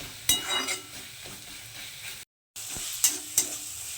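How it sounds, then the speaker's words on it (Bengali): Turmeric and chili powder fry in a pan of oil with tomato, giving a moderate close sizzle with a few sharp spoon taps and stirring clatters and one short break, with no talking. "এই হলুদ আর লঙ্কার গুঁড়োটাকে একটু ভালো করে মিশিয়ে নেব এটাতে জাস্ট আর দু মিনিট আর একটু ভাজবো আমি"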